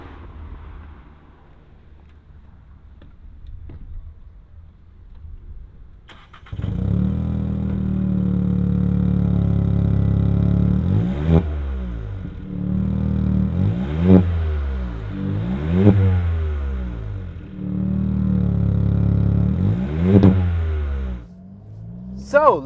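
A car engine catches after a quiet lead-in, then settles into a loud rough idle punctuated by four or five sharp revving blips that rise and fall, close up, before cutting off near the end.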